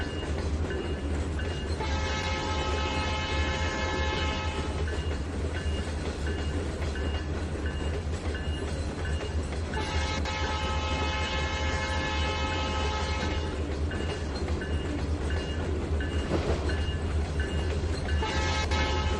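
Train horn blasts from an approaching train at an ungated level crossing in the Trainz 2019 railway simulator, sounding in long repeated honks over a steady rumble of rolling wagons.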